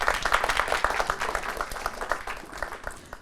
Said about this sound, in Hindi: निशा के लिए एक बार तालियां बजाइए।